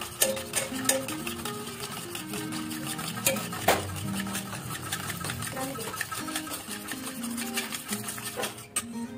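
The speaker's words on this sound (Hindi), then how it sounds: "So I'm still whisking it" Cold cream whisked by hand in one direction makes a rapid, regular clicking and tapping against the bowl, with a voice talking over it.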